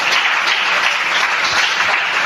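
A church congregation bursts into steady, loud applause acclaiming the Lord, a dense wash of clapping hands filling the room from start to finish.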